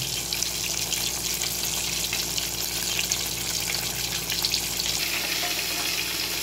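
Food fries in very hot oil with a steady, dense crackling sizzle that holds close and continuous throughout, with no talk over it.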